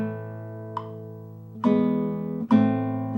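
Plucked guitar playing a rolled chord from Luis Milan's Pavane No. 1, with a sustained chord followed by two sharp strummed attacks a second apart, each ringing on; clear and close with no voice.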